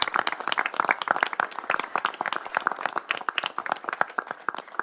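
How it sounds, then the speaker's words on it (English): A room of people at a town council meeting applauding a championship cheer team, with distinct individual claps in a brisk, uneven patter throughout. "how about a big round of applause?"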